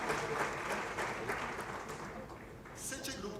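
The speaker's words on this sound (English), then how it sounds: "Round of applause for Giulio." An audience at an international investment forum applauds steadily, a dense, even clapping from a crowd that holds throughout.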